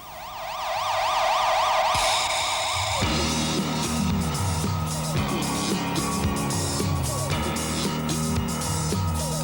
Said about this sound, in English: The soundtrack starts with a police siren, then it goes into a disco song, then it fades with the police siren.